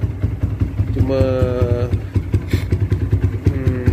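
A Yamaha VF3i motorcycle engine runs close by with a rapid, uneven two-stroke putter and revs rising briefly, while someone speaks over it.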